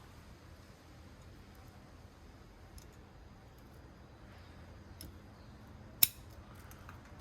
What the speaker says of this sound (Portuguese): Eu vou cortar bem rente ao primeiro nó para nascer as 2 gemas laterais.